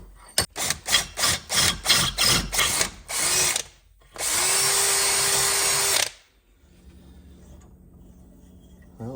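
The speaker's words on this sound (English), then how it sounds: "we'll drill down through it, hopefully find center" A power drill drills out a broken bolt on a Yugo in a string of quick pulsing bursts, then runs steadily for a couple of seconds before stopping, loud and close.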